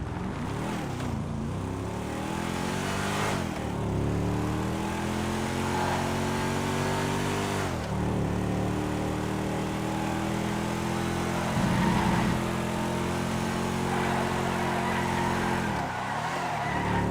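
Coil Brawler, a two-door off-road car in a video game, its engine droning steadily while driving, with repeated rising gear-shift sweeps and tire skids, loud and close throughout.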